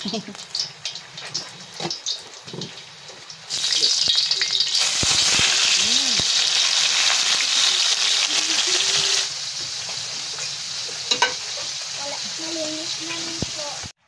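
Fish sizzles and crackles in hot oil, the frying hiss surging loudly for several seconds before easing to a lower steady sizzle, with occasional clinks.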